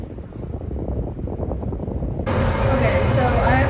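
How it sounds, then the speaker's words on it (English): Strong wind buffets the microphone in a continuous rumble, growing louder and harsher partway through. "Very windy, but very nice."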